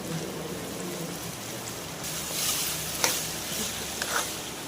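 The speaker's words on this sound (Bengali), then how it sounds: "এর মধ্যে কর্ন, বিন, ক্যারেট আছে যেগুলো আমরা ব্লাঞ্চ করে নিয়েছি, তো সেগুলো আমরা দিয়ে দিচ্ছি।" Blanched corn, beans and carrot are stir-fried in a pan at a hotel-management kitchen, a steady sizzle with a swell of hissing and a few sharp clinks of the utensil, nearby and without speech.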